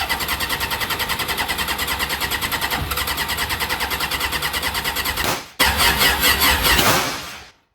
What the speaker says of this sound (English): Nice backfire there, so we can see that the fuel isn't igniting, sitting in the exhaust and causing the backfire.